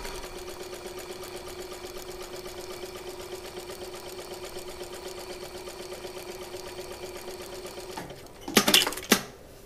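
A sewing machine stitches a zigzag pattern at a set width, giving a steady, fast mechanical whir with a continuous tone. Near the end it gives way to a few sharp clacks.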